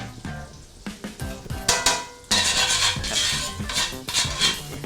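A pan holding oil, butter, garlic and shrimp juice sizzling for Tuscan shrimp, with steady frying hiss punctuated by utensil clinks and scraping stirs, close and moderately loud.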